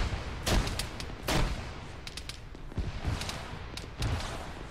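Crossfire in an Arma 3 battle: scattered gunshots and heavier booming bursts crack out at irregular intervals over a dense, continuous background rumble of combat, with no voices.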